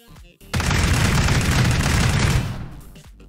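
A single sustained roar of rapid gunfire, or a blast, from a new weapon in the video game Landfall Archives, loud for about two seconds before quickly fading.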